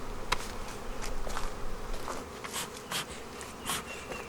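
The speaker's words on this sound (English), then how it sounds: "That swarm is just bugging me." Honey bee swarm buzzing near hives at a beekeeping inspection, a dense continuous drone with individual bees zipping close past now and then, no voices.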